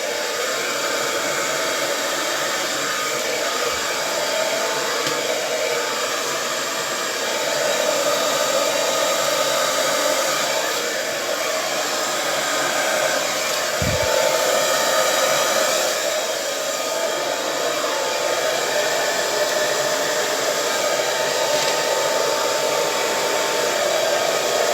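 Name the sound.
hair dryer blowing acrylic paint cells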